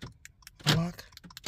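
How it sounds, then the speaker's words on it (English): A car engine cranks and catches in one short burst after a new key is programmed, with faint clicks and key jingles around it. "And the car starts."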